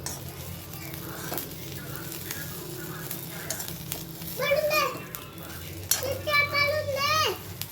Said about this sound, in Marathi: असं थोडंसं तूप टाकायचं मध्ये आणि मीठ टाकायचं आणि असं फ्राय करायचं